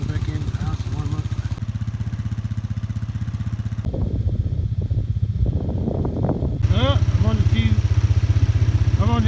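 An ATV engine idles and runs steadily nearby on a cold day at a barn, with a dense low rumble throughout, a brief rise in revs midway, and a person talking over it.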